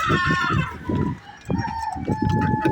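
Pet chickens being fed cluck busily up close, with a rooster crowing in long drawn-out calls over the steady clucking.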